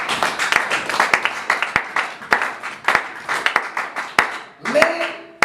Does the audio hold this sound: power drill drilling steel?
no